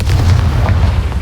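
A Confringo spell blast in a Harry Potter video game lands as a loud, dense, rumbling explosion that fills the whole short moment with heavy low boom and no voices.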